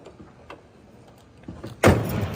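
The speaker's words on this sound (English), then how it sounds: "Doors close nicely." The door of a muscle car with shaved door handles shuts with one solid thud after a few faint clicks and rattles, followed by a brief muffled rush of sound, up close.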